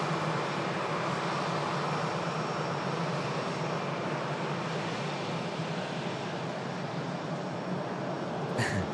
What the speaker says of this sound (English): just as an EasyJet is about to touch down from Belfast